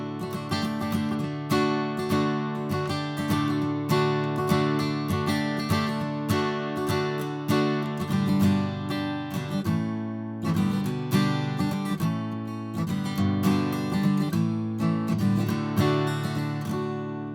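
Strummed guitar chords play the first section of a song in a group lesson, a steady rhythmic progression of repeated strums, close and loud, with no talking.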